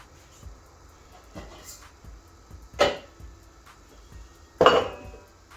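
A metal cooking pot being picked up and set down in a home kitchen while preparing quinoa, giving two distinct clanks, the second louder, over faint lighter clinks and quiet room noise.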